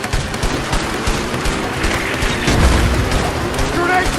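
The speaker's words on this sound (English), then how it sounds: "Grenades incoming!" Grenade blasts and gunfire in the video game A Way Out, rapid bursts of shots and booming impacts in a dense, loud barrage with a heavier blast partway through.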